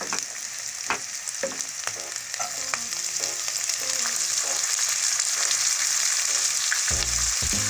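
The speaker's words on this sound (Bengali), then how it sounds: "পেঁয়াজটাকে আমি একটু ভেজে নেওয়ার পরে এর মধ্যে আমি সবজিগুলো কেটে নিয়েছিলাম সেগুলো দিয়ে দেবো এক এক করে" Chopped beans, capsicum and peas go into onions already frying in a pan for pasta, with a steady close sizzle that grows louder while a few clatters and stirring knocks sound over it.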